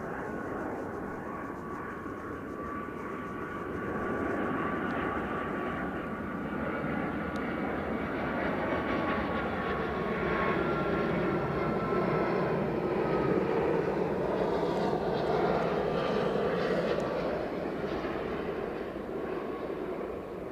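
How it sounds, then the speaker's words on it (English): A United Airlines Boeing 757-200 bound from Washington roars past at Edinburgh Airport, a loud sustained jet engine rumble with a rising and falling whine over twenty seconds. "Time for United Airlines 757-200 from Washington."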